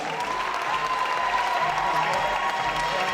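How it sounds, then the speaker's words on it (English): Crowd at a K1 kickboxing event applauding after a 70kg fight, a steady wash of clapping with a few cheers mixed in, lasting the whole stretch at even volume. "Another massive round of applause for these guys."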